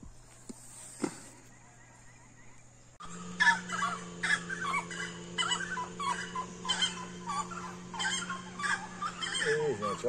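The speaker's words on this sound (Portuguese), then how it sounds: "os pássaros cantando é tudo de bom" Birds sing and call along the Miranda river, with several chirps and caws scattered over a steady low hum after a quieter start, moderately close.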